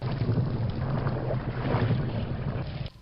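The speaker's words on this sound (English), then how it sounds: "it creates that water sound" A looping water ambience tied to a trigger volume in a Quake map, a continuous sloshing, swirling wash with a low rumble, steady and close for a few seconds before cutting off.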